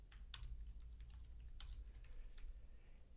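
Keys clatter on a computer keyboard as a blog post title is typed, a quiet, close run of taps with a few sharper strokes, alone without talk.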